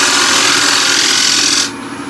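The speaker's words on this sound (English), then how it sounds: "Back with the ball gouge, I'm just going to make a simple detail." A ball gouge carves into wood, giving a loud, steady rasping scrape that runs for about a second and a half before cutting off abruptly, leaving quieter residual noise.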